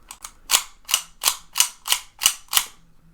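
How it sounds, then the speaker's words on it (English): A pin is worked into an Elite Force 1911 TAC airsoft pistol during reassembly, giving a quick run of eight sharp metallic clicks at an even rhythm, close up, with no talk. "put the pin back into the gun, line it up, click it in."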